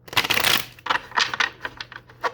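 Tarot cards are shuffled in quick riffling bursts, a close, crisp flurry of papery slaps followed by several shorter, separate snaps.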